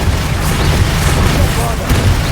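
Fire spells Incendio and Confringo cast in Hogwarts Legacy, a loud, continuous roaring crackle of flame and bursts sustained throughout, with a brief sharper pop near the end.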